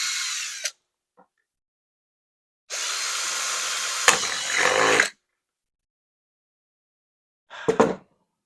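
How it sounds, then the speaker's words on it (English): A power drill boring into a plastic rice container whirs in short bursts: one brief run, a longer sustained spin with a strained end, then a quick final burst, separated by silence. "I'm going to drill the hole somewhere right around there."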